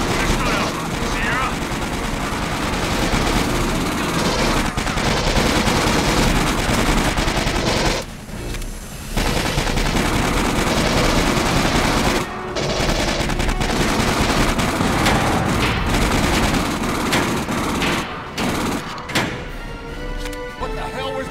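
Dense game combat in Aliens: Colonial Marines, loud rapid gunfire in repeated short bursts with clattering impacts, nearly continuous over about twenty seconds with only brief gaps.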